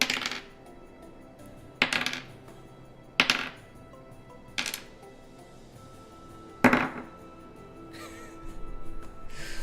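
Orange dice rolling in a dice tray: five or six sharp clattering throws in an irregular rhythm, close up and moderately loud against a quiet background.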